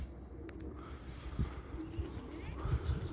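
Pigeons coo softly in low, rounded bursts near a loft, several calls spread across a quiet, faint background, with an occasional light chirp and a person speaking faintly in the distance.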